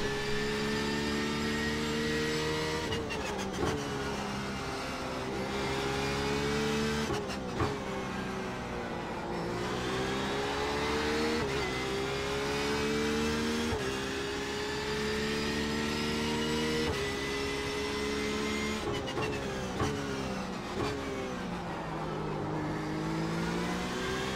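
Porsche 911 RSR GTE race car engine in the iRacing game at the Nurburgring, a loud continuous howl rising through the revs and dropping sharply at repeated gear shifts across a lap section, with no voices.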